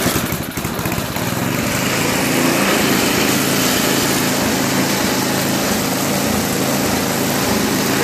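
A Toro 21-inch dual stage snow blower with a 5HP Tecumseh engine runs steadily on choke, its loud, continuous buzzing drone holding close and alone throughout.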